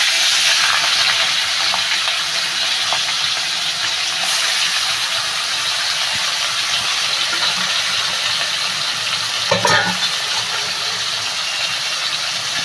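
Prawns frying in hot oil for a pumpkin-greens curry make a continuous, even hiss, fairly loud and close, with one brief spattering burst near the end.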